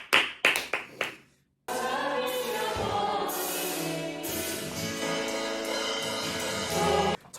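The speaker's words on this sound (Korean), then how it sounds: "야, 이건 또 박수 한번." A few sharp hand claps ring out at the start, then a brief silence, followed by dense, sustained applause from a classroom group that carries on steadily to the end.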